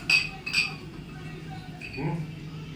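Glasses clink together in a birthday toast, two bright chinks close together early on and a softer one near the end, over steady room murmur and voices.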